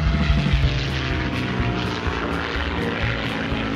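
A Model Tech Blue Max Gen-II electric ARF RC model airplane flies overhead, its propeller and motor giving a steady loud buzzing drone that holds through, with no talking.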